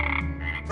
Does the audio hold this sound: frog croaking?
yes